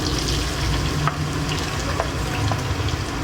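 Beef boti pieces drop into hot oil for a beef masala dish and fry with a loud, steady sizzle. A few faint clinks and stirring sounds sit close up, with no talking.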